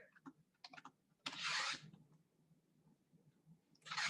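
Quick bursts of typing on a computer keyboard, short clusters of light clicks separated by pauses, close and quiet with no voices.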